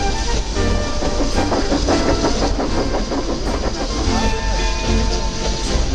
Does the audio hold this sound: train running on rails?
yes